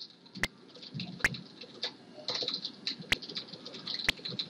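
Small electronic chirps from birds in the ZX Spectrum game Teenage Mutant Hero Turtles 2 flutter on top of a busy beeper soundtrack, with sharp clicks at irregular intervals.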